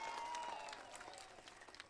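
Crowd at a political rally welcoming Arvind Kejriwal breaks into steady, dense applause, distant and faint at first and thinning slightly toward the end, with a sustained tonal hum running beneath the opening moments.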